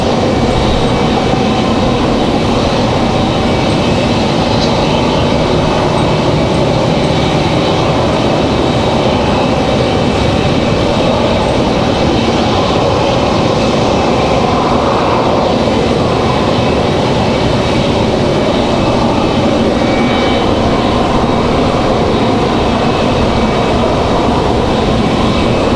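A jet airliner taking off from a runway at Raleigh-Durham airport, a loud continuous broadband engine roar that stays strong and steady throughout, heard from a distance with no voices.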